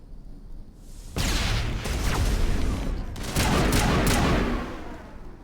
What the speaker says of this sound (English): Finally, threw a grenade that worked.